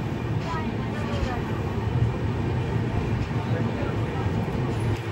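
The Bangalore to Howrah superfast express rolls slowly, a steady low rumble and clatter from inside the crowded carriage, with people talking throughout.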